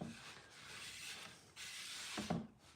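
Sandpaper rubs along the edge of a painted panel in steady, close strokes, a soft continuous scratching hiss that rises and falls with each pass.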